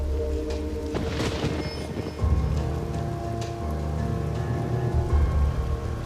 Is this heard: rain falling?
yes